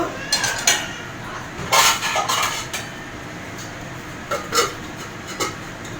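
A metal lid clinks and scrapes onto a cooking pot of boiling cauliflower and potato, several short bright clanks clustered in bursts, close by.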